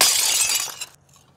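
Car glass shatters after a 150-pound rubber band ball on a zip line strikes it: a loud, bright crash that fills the first second and then cuts off into near-silence.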